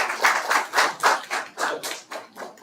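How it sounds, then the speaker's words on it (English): A small group in a classroom training session gives a round of applause, clapping in pulsing, rhythmic bursts, moderately loud and close, with no voices. "A round of applause for this."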